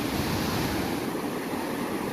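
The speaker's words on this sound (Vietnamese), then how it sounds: "sóng biển vô này" Sea waves wash ashore near beach structures, a soft, continuous rushing surf heard close and steady with a faint wind hiss and no speech.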